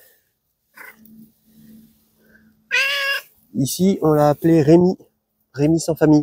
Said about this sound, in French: C'est un chat sauvage.